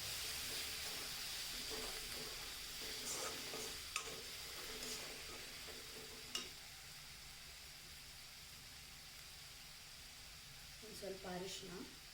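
Dal with fenugreek, Andhra style, fried and mashed in a pan: a steady low sizzle with periodic scraping and stirring taps, faint and continuous, with a voice speaking softly over it.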